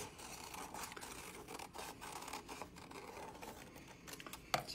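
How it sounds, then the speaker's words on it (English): Scissors trimming a paper vase, soft snipping and rustling of paper, quiet and close with a sharper cut near the end. "I'm just gonna take my scissors, just kind of trim it just a little bit."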